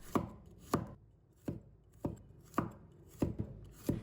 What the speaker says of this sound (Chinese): 接下来就是准备1把大蒜，给它切成片